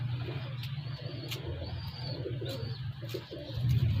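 An Old Salaray Teddy pigeon coos in low, repeated rolling calls close by, with faint background noise underneath.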